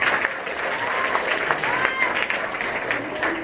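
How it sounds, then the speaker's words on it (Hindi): Loud, sustained applause fills the room at a school founders' gathering, a continuous wash of audience clapping with crowd noise blended underneath. "जोरदार ताली।"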